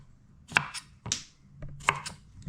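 A knife chopping jalapeno peppers into small pieces on a board, four or five sharp, close cuts spaced irregularly over a quiet background.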